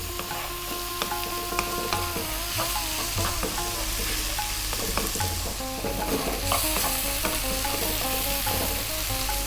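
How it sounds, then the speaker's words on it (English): Spice powders fry in a pan for an Indian egg curry while being stirred continuously, giving a steady close sizzle broken by frequent scraping and tapping of the spoon against the pan. "Stirring pretty much all the time now. We don't want our powders to burn."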